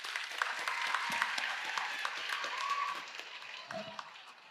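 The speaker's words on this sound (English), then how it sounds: "Big round of applause." A small audience at a tech mentoring session gives a round of applause, with scattered claps going on for a few seconds and fading, partly under talking voices.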